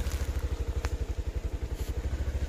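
A motorcycle engine chugs steadily at close range, its low pulsing throb repeating in an even, rapid rhythm with a faint clatter on top.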